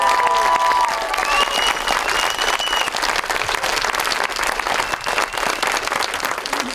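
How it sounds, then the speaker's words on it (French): Sustained, dense applause from an audience after a school play performed by pupils of école Jeanne d'Arc, steady and loud throughout with a few faint voices mixed in. "on peut encore les applaudir."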